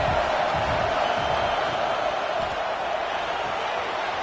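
At a USC football game, a large stadium crowd roars in a dense, steady wash of noise that continues without a break.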